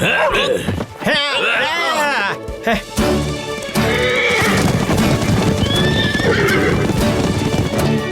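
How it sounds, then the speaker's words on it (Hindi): Several horses neigh and whinny loudly as hooves clip-clop continuously nearby, while people talk and call out over the commotion. "वो लोग हमारे घोड़े ले जा रहे हैं।"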